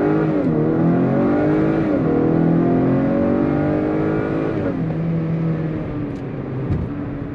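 A 2021 Acura RDX AWD launches hard from a standstill, its engine note climbing steadily through the revs with a brief shift dip, loud and close throughout with no talking.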